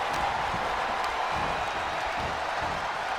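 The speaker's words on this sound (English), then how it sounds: "Just listen to this crowd." A large arena crowd roars in a steady wash of cheering and scattered clapping during a CM Punk versus JBL wrestling match in the WWE 2K26 video game, filling the background without letting up.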